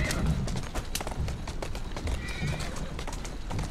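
A horse pulls a taxi carriage through Victorian London in Assassin's Creed Syndicate, its hooves clip-clopping steadily and close, with a whinny partway through under light game ambience.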